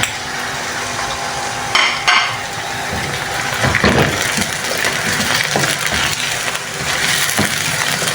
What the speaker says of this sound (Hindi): अब मैं इसमें चिकन शामिल करने लगी हूँ।